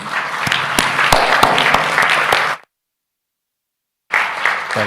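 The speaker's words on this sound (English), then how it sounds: "please give a round of applause to these sponsors who helped to defray the costs of this meeting" A crowd claps loudly and steadily, then the sound cuts to silence for over a second before applause resumes.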